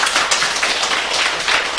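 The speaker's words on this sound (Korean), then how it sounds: "예, 박수 한번 주십시오." Audience applause in a church hall during a laughter-therapy gathering, a steady dense wash of many hands clapping at once, loud and continuous for under two seconds.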